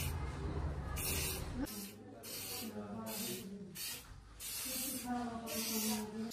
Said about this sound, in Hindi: स्प्रे पेंट तो मैंने इसके ऊपर कर दिया